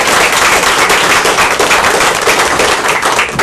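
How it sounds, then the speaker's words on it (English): Loud, dense applause from a crowd at a county commissioners meeting, steady clapping filling the room without a break, close and continuous. "let's clap"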